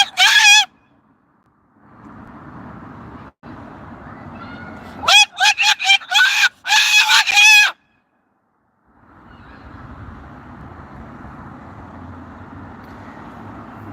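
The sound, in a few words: Moluccan cockatoo parrot screaming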